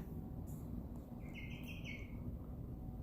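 Faint, high chirps from chicks come in a few quick bursts over a steady low background hum.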